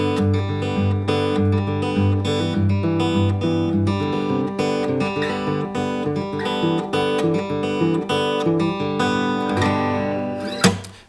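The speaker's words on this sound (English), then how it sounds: "So today we're going to learn a pretty cool finger picking pattern that is simple." Fingerstyle acoustic guitar plays a steady, simple picking pattern of single plucked notes over sustained bass, close and clean, with no voices, ending on a brief sharper pluck.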